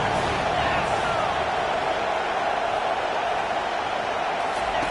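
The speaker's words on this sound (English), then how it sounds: "Third down and the crowd really getting into it." Football stadium crowd cheering on a third down, a dense, sustained roar of many voices at steady loudness throughout, with a commentator's voice faintly mixed under it.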